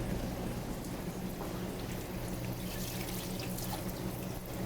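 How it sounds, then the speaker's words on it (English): Water from a kitchen tap rinsing a freshly shucked oyster, a steady hissing splash of running water, continuous and fairly faint throughout, with no talking. "So I'll just rinse it really quick."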